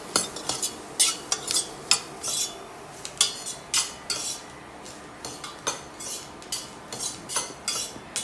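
Onions sauté in a pan for tomato soup while a metal spoon stirs and scrapes against it in a steady rhythm of clinks, close and clear with no talking.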